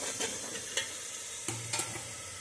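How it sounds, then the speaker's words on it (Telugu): Ginger garlic paste fries with onion paste and green chillies in a pan, a steady close sizzle with a few soft stirring scrapes of the spoon. "ఇప్పుడు అల్లం వెల్లుల్లి పేస్ట్ వేసి వేసుకుందాం. బాగా పచ్చివాసన పోయేదాకా వేసుకోవాలి."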